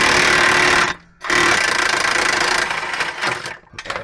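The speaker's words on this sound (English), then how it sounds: "Impact wrench attached." An impact wrench takes off a front sway bar link on a Hyundai Santa Fe: loud continuous rattling hammering, briefly stopped near the one-second mark, then a sustained burst that tapers and ends with a short final blip.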